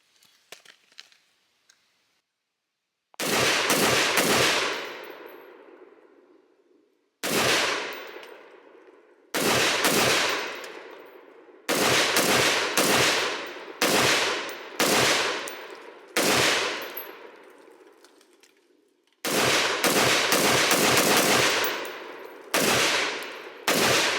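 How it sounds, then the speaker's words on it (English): An AR pistol fitted with a standard recoil buffer fires repeatedly at a range, loud close reports coming singly and in quick groups of two to four, with short pauses between them. "Let's go ahead and just take a few shots so we can see what the recoil looks like."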